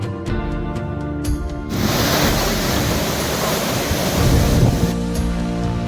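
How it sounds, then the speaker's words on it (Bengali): Kempty Falls, a waterfall in Mussoorie, Uttarakhand, roars as a loud, steady broadband rush of falling water. It swells in abruptly after a quieter opening and continues unbroken, with no talking. "ফাইনালি আমরা পৌঁছে গেছি কেপটি ওয়াটারফলসে"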